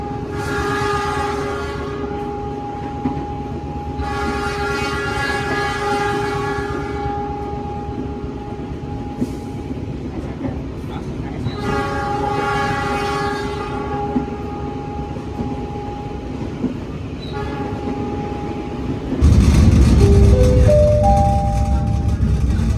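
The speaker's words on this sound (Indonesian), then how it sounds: "Jadi ini ASMR banget suara klakson lokomotif" Indonesian passenger train heard from a business-class carriage just behind the locomotive, with steady loud rumble and several long sustained horn-like tones, ending in a rising series of notes over heavier noise.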